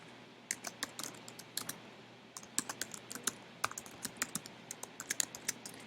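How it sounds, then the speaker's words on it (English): Fast, uneven bursts of clicky keystrokes on a computer keyboard, quiet and close, with short pauses between runs of typing and no voices. "Now it's time for me to type."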